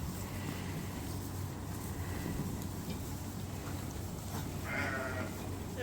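Sheep in a barn bleat now and then over a steady low rumble of background noise, one call rising clearly near the end while the flock shifts and feeds.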